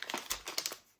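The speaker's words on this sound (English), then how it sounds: "Let me just open the packet, show you what they look like." A plastic packet holding infrared LEDs and receivers crinkles and crackles up close in a quick run of soft, irregular rustles, fairly faint, with no talk.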